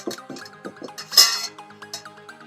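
A metal karai wok is set on the stove before frying pumpkin pakoras, a few light metallic clinks and scrapes followed by a brighter ringing clank, close and clear, with no talking.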